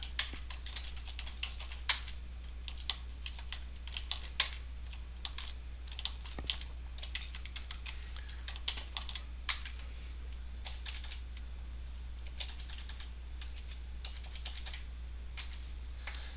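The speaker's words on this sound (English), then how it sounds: "me going in and typing in the information here" Steady, rapid clicking of keys on a computer keyboard, with irregular bursts and short pauses, close up over a low constant hum.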